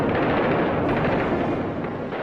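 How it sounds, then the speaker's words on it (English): Dense artillery bombardment in France, June 1940, a continuous rumbling roar of overlapping blasts, loud and sustained with no pauses. "a short bombardment began the final destruction of France"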